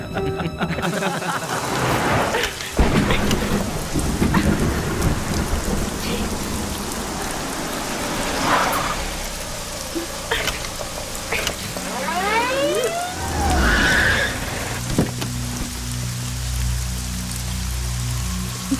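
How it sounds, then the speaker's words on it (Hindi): Heavy rain pours down in a thick, constant hiss, loud and close, with thunder rumbling and a siren-like wail rising briefly partway through; speech is faint underneath. "बरसात है ना"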